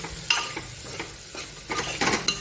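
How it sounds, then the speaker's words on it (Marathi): Dal and rice being stirred together in a pot, giving soft scraping and stirring strokes with a few light clinks of a utensil against the vessel, close and fairly quiet, no talking. "आता आपण डाळ तांदूळ आधी मिक्स करून घेऊया"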